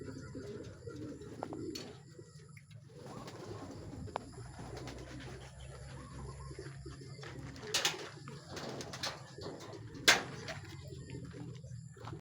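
Racing pigeons arriving from a training toss coo softly nearby amid outdoor ambience in San Jose del Monte, Bulacan, with a few sharper bird calls and wing flutters breaking in.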